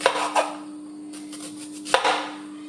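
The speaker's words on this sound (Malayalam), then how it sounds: "രണ്ട് സവോള വട്ടത്തിലൊന്ന് അരിഞ്ഞെടുക്കുക" A knife slicing two onions into rings on a board, a few crisp cuts and light knocks at irregular intervals over a steady background hum.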